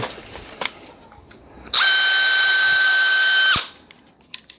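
Power drill fitted with a Wolfcraft countersink bit, a loud high whine running for about two seconds between quieter workshop sounds.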